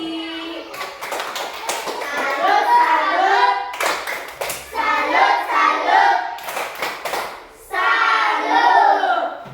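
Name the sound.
group clapping hands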